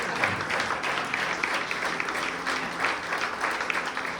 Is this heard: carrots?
no